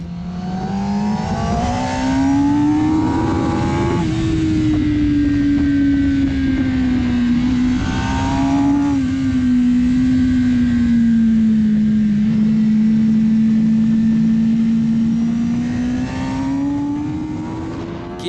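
A Suzuki GSX-R 1000R superbike with a classic Japanese inline-four engine revs steadily and loudly up close, its pitch climbing, dipping, then holding high and rising again over about eighteen seconds, with no one talking.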